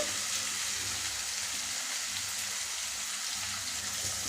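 Cumin and black pepper fry in hot oil for jeera rice, a soft, even hiss that runs steadily throughout, fairly quiet and with no one speaking.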